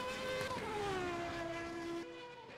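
A race car engine in the sim racing game Automobilista, a loud sustained tonal howl that falls in pitch as the car decelerates, then drops off abruptly near the end.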